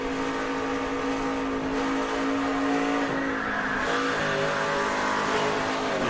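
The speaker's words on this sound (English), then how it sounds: "You heard the tires start squealing there when he lost control of the back of that truck." A 2011 NASCAR Camping World Truck Series race truck at full speed on the track, its engine a loud, sustained roar that holds steady without a break.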